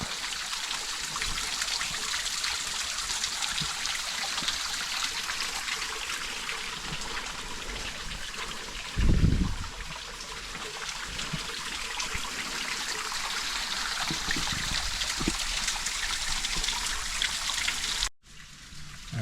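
Continuous gentle trickling of a shallow, low mountain stream in the Great Smoky Mountains, steady and close, with a brief low thump partway through.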